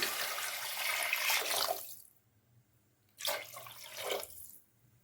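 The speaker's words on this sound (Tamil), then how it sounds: "இப்போ தண்ணி ஊற்றிக்கலாம்" Water pours steadily into a pot of rice, a splashing rush that stops, then a second shorter pour follows after a brief pause.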